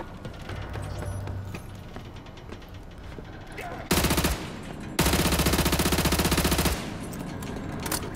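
Gunfire in Call of Duty: Modern Warfare 2 Remastered, with a loud burst of automatic fire followed by a longer sustained rattling volley over a busy game soundscape.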